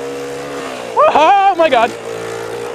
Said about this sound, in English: That wheel spin is real though!